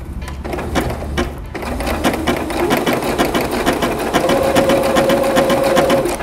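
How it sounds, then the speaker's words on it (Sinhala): A sewing machine zigzag-stitches the piping of a face mask headband together, a close, loud, steady mechanical whirring with rapid needle clatter that runs unbroken and has no talking. "අපි මේ විදිහට පින්ස් ගහගත්තට පස්සේ මැෂින් එකේ zigzag හරි එහෙම නැත්නම් වෙන zigzag වගේ තියෙන ඩිසයින් එකක් දාගෙන"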